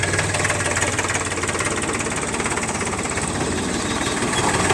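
A used Powertrac 439 tractor idles at close range, its engine a steady, loud diesel chug with a knocking pulse that holds unbroken throughout.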